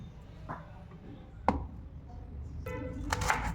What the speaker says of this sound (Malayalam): പിന്നെ സവാള ഇതുപോലെ നീളത്തിൽ കട്ട് ചെയ്തെടുക്കുക